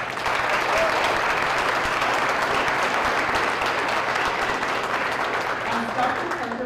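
Sustained applause from a school district meeting audience honoring students, dense steady clapping filling the room at full volume for the whole stretch with no break.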